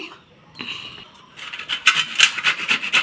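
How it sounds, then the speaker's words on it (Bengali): Giant taro (shola kochu), already peeled, being grated on a hand grater: a steady rasping scrape that begins faint and grows louder, repeating in quick rhythmic strokes close by. "এটা ভালোভাবে ঘষনি দিয়ে ঘষে নিচ্ছি"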